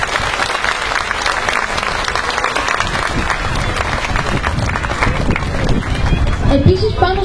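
Audience applause at a dolphin show at Attica Zoo Park, a steady wash of clapping from a large crowd lasting throughout, with a brief whistle-like tone near the end.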